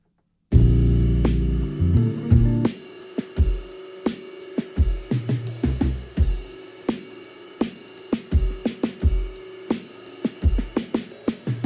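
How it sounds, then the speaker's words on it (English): Lofi hip hop drums are pushed through a heavy multiband compressor preset, starting with a dense sustained low chord before a punchy, squashed beat of kicks, snares and ticking hats settles into a steady loop, loud and close with no voices. "Super compressed, overly intentionally compressed sound."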